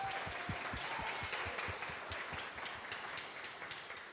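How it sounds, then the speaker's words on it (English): Steady applause from a gala audience at a Global Visionaries auction event, with individual claps standing out close by against a wash of clapping that fades slightly toward the end. "Please join me in giving them an applause as well."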